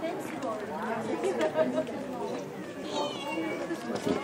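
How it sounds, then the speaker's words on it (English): A cat meows among crowd chatter at the ancient Roman ruins of Ephesus, sitting on exposed floor mosaics, the short cries faint beneath people talking nearby. "Kitty cat sitting on the mosaics."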